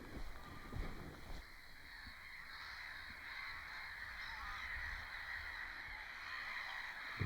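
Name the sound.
birds calling by a small lake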